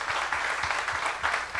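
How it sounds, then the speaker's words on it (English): A panel audience applauds in a steady wash of clapping, close and fairly loud, with individual hand claps faintly standing out and no talk over it. "Could we also give them a round of applause?"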